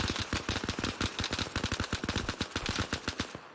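Rapid automatic gunfire from the video game Arma Reforger, a steady stream of sharp close shots rattling in quick succession for a few seconds, alone without talk.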